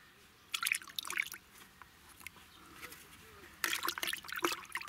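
Water mixed with soil disinfectant poured into potting soil for lavender cuttings, soft trickling and dripping with two brighter splashy bursts, close and moderately quiet over a low background hum.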